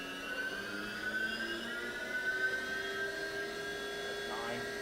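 A 2005 Haas Super Mini Mill spindle spins up to high RPM, a steady whine with tones gliding slowly upward over a constant mechanical hum, fairly quiet and continuous.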